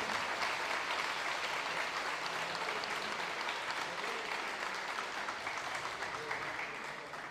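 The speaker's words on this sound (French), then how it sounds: "Vous pouvez les applaudir très très fort" Sustained applause from an audience honouring tournament volunteers, a dense steady wash of clapping that holds at an even level throughout, with no voices standing out.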